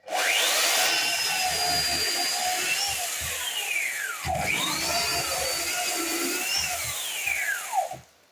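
A Husqvarna Electronic 1600 electric chainsaw cuts through wood, its whining motor rising and falling in pitch over two sustained cutting passes before it winds down near the end, loud and close, with no talking.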